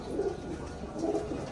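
Cooing from a flock of pet pigeons being let out of their coop, soft low calls overlapping steadily through the moment, with a faint bird chirp or two and no talking.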